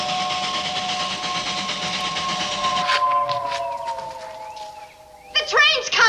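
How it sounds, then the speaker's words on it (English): An approaching train sounds a long, steady horn over a rumbling background; the tone sags slightly as it nears, then sharper clattering bursts arrive near the end. "The train's coming."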